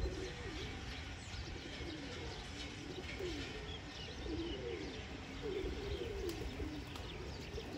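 A female Teddy pigeon cooing in soft, repeated low warbles against a steady background hum, with a few faint chirps scattered throughout.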